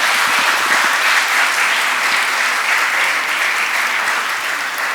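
At a national conference on rehabilitation in healthcare in India, the audience applauds in a steady, full round of clapping that holds for several seconds before easing off slightly.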